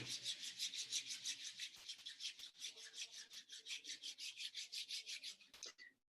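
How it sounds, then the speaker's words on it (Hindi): Two palms rub briskly together in a steady back-and-forth rhythm, a close, dry swishing repeated some thirty times over about six seconds before stopping, with no talking. "दोनों हाथ को रब कर लें।"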